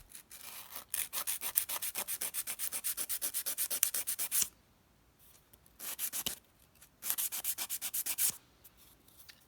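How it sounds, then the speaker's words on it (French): A 180-grit nail file rasps back and forth across a fingernail in quick, steady strokes, close and crisp, with two short pauses before the rhythmic filing resumes. "avec ma lime à 180, je vais venir limer mes parallèles"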